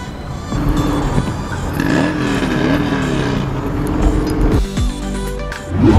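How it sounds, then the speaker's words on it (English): Motorbikes passing along a road during an evening ride, loud engine drones that rise and shift in pitch as they go by, with a final roar building at the end. "Motorbikes."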